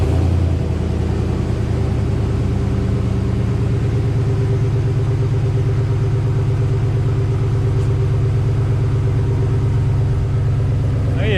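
Car engine with a new 400-series stainless Total Flow muffler idles steadily close by, producing a continuous low rumble that holds throughout with no talk over it.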